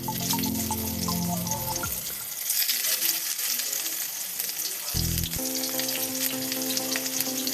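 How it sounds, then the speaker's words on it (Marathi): Hot oil sizzles and crackles loudly as stuffed bitter gourds are laid into a pan, with music playing underneath at the start and end. "कढईमध्ये थोडं तेल घालून यामध्ये आपल्याला हे भरली कारली सावधपणे टाकायची आहे"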